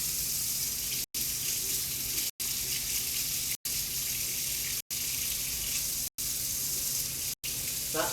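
Semi-warm water runs from a tap in a home kitchen while pizza dough is being made, a steady hissing stream broken by several brief silent gaps.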